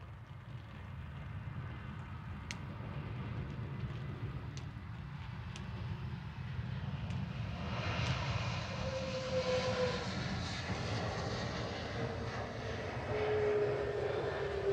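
A fixed-wing airplane landing at Manchester Airport gives a steady distant engine drone that builds gradually toward the end, heard without talk.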